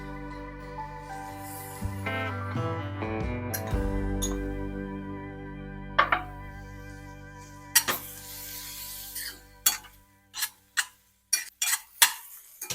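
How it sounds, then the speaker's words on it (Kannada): Fried mushrooms being stirred into masala in a pan, with a low sizzle early on and then a series of sharp spoon-on-pan scrapes and clacks coming in quick bursts toward the end. "ಫ್ರೈ ಮಾಡಿ ಇಟ್ಕೊಂಡಿದ್ದಂತ ಮಶ್ರೂಮ್ ಅನ್ನ ಈಗ ಇದಕ್ಕೆ ಮಿಕ್ಸ್ ಮಾಡ್ಕೊಳ್ತೀನಿ."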